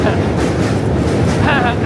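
A train rumbling loudly across a New York City bridge, a dense roaring wash heard close from the walkway with a brief squealing tone near the end.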